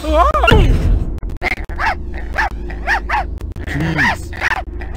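A purebred chihuahua named Ricky barks in sharp, repeated yaps through a scene from the Blade Runner video game, with voices talking over a steady background hum.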